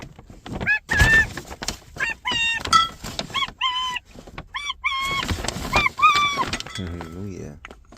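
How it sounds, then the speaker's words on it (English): Ducks being fed outdoors give close, loud honking quacks in repeated bursts, several birds calling one after another with brief gaps between calls. "we're gonna go feed some ducks"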